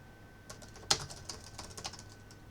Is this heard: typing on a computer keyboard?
yes